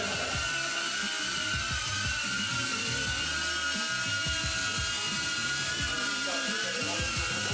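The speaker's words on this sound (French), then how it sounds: "on a fait du drone dans l'hôtel." A small drone flies indoors inside a hotel, its rotors giving a steady, dense high whine and buzz that runs unbroken throughout, close and fairly loud, with no talking.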